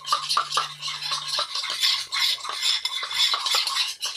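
Homemade slime being stirred in a bowl, with a steady scraping, clicking swirl of a utensil against the sides and wet squelching, close and continuous with rhythmic pulses.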